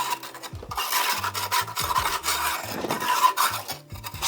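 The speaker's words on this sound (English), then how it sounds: "it softened it up enough to scrape it" Caked-up residue is scraped off a carbon steel trowel in repeated close, rasping strokes with short pauses between them.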